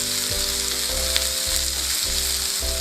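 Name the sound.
sliced onions frying in a pan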